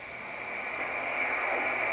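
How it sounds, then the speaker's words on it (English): A steady amateur radio RTTY teletype tone on the 20-meter band near 14.080 MHz whines over a bed of radio static and hiss, continuous and fairly faint. "This is an RTTY signal."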